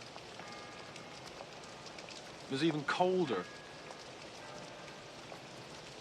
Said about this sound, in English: It rained even harder than this at the boathouse.